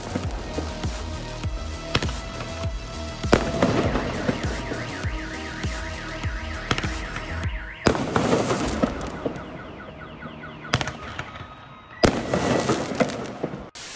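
Fireworks launched into the night sky over a neighbourhood in Magadan, with repeated bursts and crackling pops in bunches, loud and fairly close, a pause between volleys and no talk.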